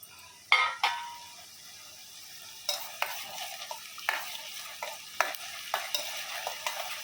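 Garlic and onion fry in a pan with a steady low sizzle while a utensil stirs and scrapes in sharp, irregular strokes, the clinks and scrapes loud and close and no voice heard.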